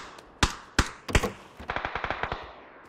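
Gunfire in the video game PUBG (Battlegrounds) rings out as a few sharp single shots, then a rapid automatic burst. The shots sound somewhat distant and faint, with no talking.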